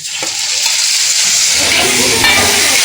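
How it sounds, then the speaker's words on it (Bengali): Tomato going into a pan of fried chopped onions, giving a loud, steady sizzle that swells with stirring, close up and with no talk. "এই যে পেঁয়াজ ভাজা হয়ে গেছে, টমেটো দিয়ে দিচ্ছি।"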